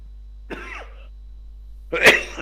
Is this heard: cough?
yes